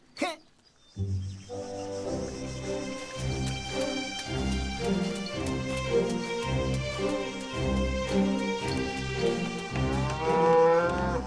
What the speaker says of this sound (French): c'est une vache